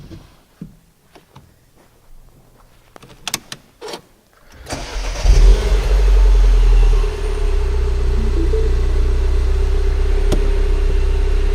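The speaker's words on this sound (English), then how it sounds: "So let's start the car and let's have a look." A few clicks and switch sounds, then a BMW MINI car engine cranks and catches, revving briefly before settling into a steady, loud idle.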